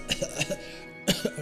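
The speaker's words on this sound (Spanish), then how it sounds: "Tose y escupe el líquido violáceo." A character coughing in the video game Dofus, a few short rough coughs in quick succession, a pause, then another burst, close and clear over faint background music.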